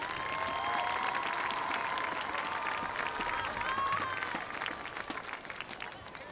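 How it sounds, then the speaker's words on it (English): Stadium crowd at a Mount Carmel Area versus North Schuylkill high school football homecoming claps for the homecoming court and their escorts, a broad, steady wash of distant applause with scattered shouts, tapering slightly at the end. "let's have a nice round of applause for the homecoming court and their escorts"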